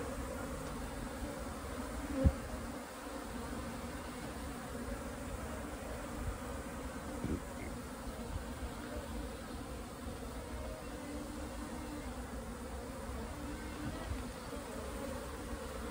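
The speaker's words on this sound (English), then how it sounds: "That sound you're hearing is a power tools next door for construction." A high-pitched power-tool whine drifts over from construction next door, a steady, fairly faint drone that holds unchanged throughout, with one brief sharp tick near the start.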